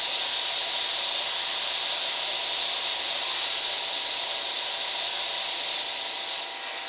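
A steady, loud hiss of compressed air rushing from an Abest TJ 180K airbrush, continuous and close, tapering slightly at the end.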